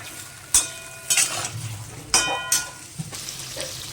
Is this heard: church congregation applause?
no